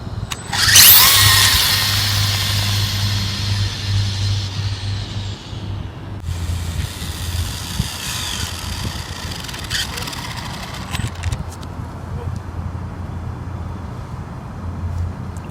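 A budget RC drag car, a Honda body, makes test pulls: a sharp high whine bursts at the start and fades, then further shorter runs hum and whir over a steady motor drone.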